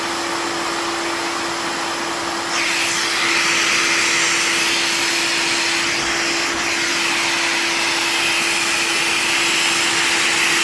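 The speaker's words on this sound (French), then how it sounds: "j'ai allumé l'aspirateur" A vacuum cleaner fitted with a sander dust-extraction adapter runs continuously close up, a loud steady whine and roar that grows slightly louder after a few seconds.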